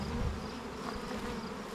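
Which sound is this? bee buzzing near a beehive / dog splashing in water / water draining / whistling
bee buzzing near a beehive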